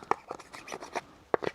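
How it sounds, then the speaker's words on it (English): A screwdriver scrapes thick grime off a chainsaw's chain guard in a series of short, dry rasping strokes, some louder than others, with a brief pause before a final cluster of scrapes close by. "Let's scrape the best part of it off with a screwdriver."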